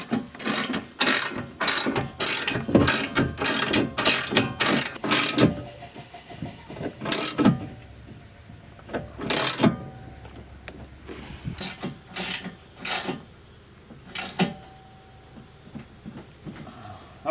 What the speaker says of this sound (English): Alright, now it's just a matter of tightening it down. I think the ratchet will work just fine in this.